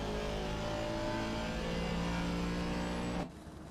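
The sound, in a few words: race car engines in Assetto Corsa Competizione video game race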